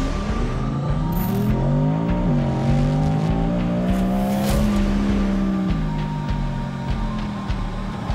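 An Audi R8 drifting on a coastal course, its engine revving hard with rising and falling pitch while the tires squeal continuously, loud and close throughout.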